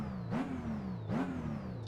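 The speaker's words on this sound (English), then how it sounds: "it's like a supercharger whine." A car engine in the video game Test Drive Unlimited 2 produces a supercharger whine as it revs twice in quick succession. The pitch swoops upward with each rev over a constant low engine drone, and the level is fairly quiet.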